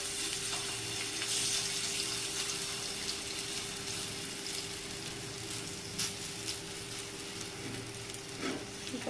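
Potato patties fry until crisp in a pan with only a little oil, making a steady, loud sizzle throughout with a few pops and clinks near the end.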